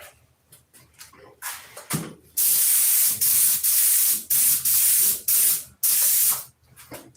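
A spray gun bursts out thinned paint in a series of loud, close hissing blasts, about seven spurts of a second or so each with short pauses between, after a quieter start of faint handling noise.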